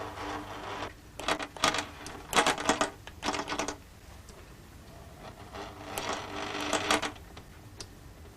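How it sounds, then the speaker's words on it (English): A stepper motor drives a sewing machine needle in bursts of rapid mechanical clatter and ticking, separated by quieter pauses, close up and with no voices. "I think you can see the stepper motor moving the needle in this machine."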